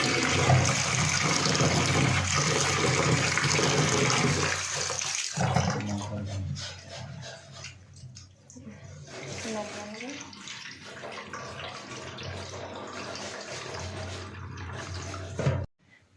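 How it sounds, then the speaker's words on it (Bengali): Lentils and chickpeas being washed in a bowl of water: continuous sloshing and splashing close by, loud at first and then a steadier swishing, with no talking. "এটাকে ভালো করে ধুয়ে ধুয়ে ধুয়ে ধুয়ে এই নোংরাগুলোকে বার করবো"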